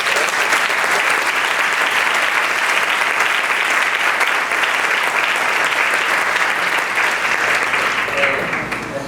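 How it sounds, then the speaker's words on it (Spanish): A church congregation breaks into loud, sustained applause, thick continuous clapping from a large crowd filling the room for several seconds, tapering slightly at the end. "Le pido un aplauso al Señor."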